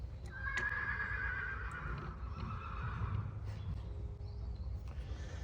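A horse gives one drawn-out whinny at a moderate distance over a low background rumble, then quieter knocks and shuffling follow.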